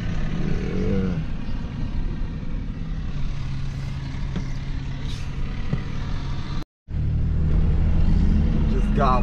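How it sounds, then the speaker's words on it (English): An Isuzu junk removal truck climbs a long hill, its engine a steady, loud, low rumble heard from inside the cab, with a brief cut partway through before the drone resumes. "Now we're driving like a quarter mile all the way up this huge hill way over there somewhere."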